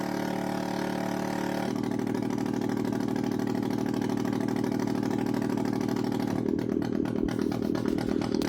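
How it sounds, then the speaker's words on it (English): A circuit-bent Yamaha PSR-12 keyboard makes a buzzy, droning electronic tone that chugs like a small idling lawnmower engine, shifting pitch partway through and sputtering rhythmically toward the end. "Now it sounds like a lawnmower."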